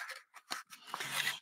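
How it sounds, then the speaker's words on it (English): A paper trimmer blade is pulled back along its rail for card-making, making a few short scraping and clicking strokes followed by a brief sliding rasp, close and quiet with no speech. "I am going to pull back my trimmer"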